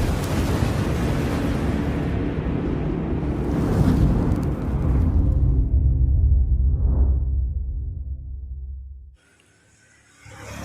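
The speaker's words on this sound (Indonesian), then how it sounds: "Ini campur hujan, campur petir." Heavy rumbling roar like rolling thunder over a wash of rain noise, swelling and then fading into quiet before a faint hiss returns.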